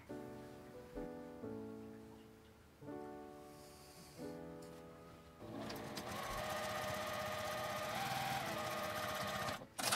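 A sewing machine stitching fabric in short humming runs with pauses between them, followed by a longer steady buzzing stretch of fast stitching, close and clear.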